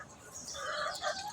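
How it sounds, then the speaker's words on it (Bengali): Broiler chickens on a poultry farm cluck and squawk in a busy overlapping chorus, moderately close and steady throughout. "ফার্মি মুরগির খামার।"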